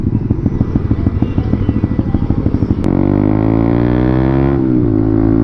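Motorcycle ridden on Philippine roads, its engine chugging with a rapid pulsing beat before shifting into a steadier, rising drone; loud and close throughout with no talking.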